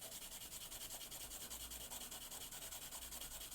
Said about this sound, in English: I'm going to sandpaper it into this container